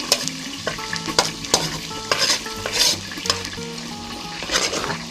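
Garlic fries in melted butter in a pan for sisig, crackling and sizzling with repeated scraping stirs and clinks of a utensil against the pan, close and fairly loud, with no talking.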